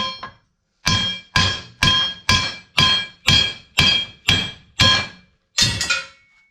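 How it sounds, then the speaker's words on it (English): Hammer tapping wheel studs out of a hub clamped in a vise, about ten sharp metallic strikes in a steady, even rhythm, loud and close with short ringing decays and no talk. "tap these on the head with a hammer and tap them out basically"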